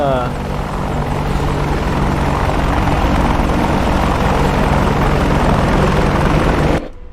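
An AH-64D Apache helicopter in a flight video game, its rotor and engine roar loud and steady for nearly seven seconds before cutting off abruptly.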